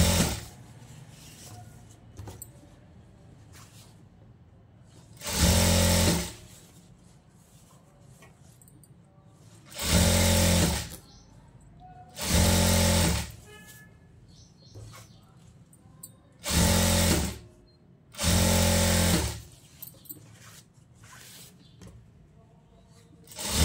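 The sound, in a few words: sewing machine sewing a straight stitch on a blouse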